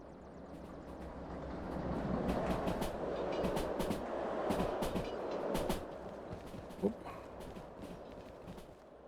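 A train rolls along the rails in the railway simulation game Derail Valley with a continuous rumbling drone and scattered clicking and clacking of the wheels. It holds at a moderate level throughout, with one brief louder knock near the end.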